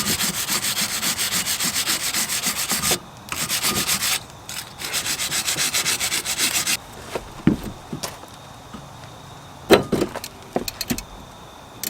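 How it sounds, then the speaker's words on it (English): Brake caliper sliding surfaces on a car being scrubbed clean, steady close rasping and rubbing strokes that stop partway, followed by scattered clinks and knocks. "I'm just going to clean up the sliding surfaces here so I won't have any problems putting the new brake caliper on"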